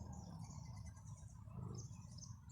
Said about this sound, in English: You can hear the birds, man.